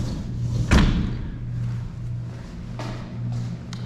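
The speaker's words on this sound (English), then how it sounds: "Another original patio door, but hey." An old original sliding patio door at a house under inspection closes with one dull thud, then a quiet room hum carries on with faint small knocks and no speech.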